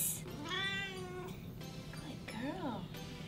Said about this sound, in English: I recorded Nylah meowing, and she's gonna be a bleep noise on top of curses from now on